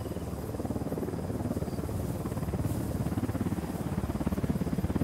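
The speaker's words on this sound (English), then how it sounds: "Helicopter inbound." In the video game Ghost Recon Wildlands, a helicopter approaches with a steady rhythmic rotor thump over a broad engine rumble, building slightly in strength.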